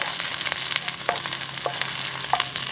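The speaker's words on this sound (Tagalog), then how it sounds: "Manggisa lang tayo ng bawang at sibuyas." Chopped garlic and onion sautéing in a pan for a Filipino pork ribs and milkfish belly dish, a close, steady sizzle broken by soft stirring clicks and scrapes, with no voices.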